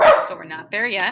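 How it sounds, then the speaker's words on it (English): A pet dog at home lets out a short, sharp bark that dies away quickly, followed by a person talking close by. "And that is my dog."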